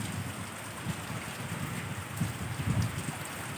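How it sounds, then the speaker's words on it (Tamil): Rain pours down steadily in a continuous hiss with occasional low thuds of heavier drops. It is moderately quiet, with no talking. "மழை வருது பாரு எப்படி ஊற்றுதா மழை ஊற்றுதா"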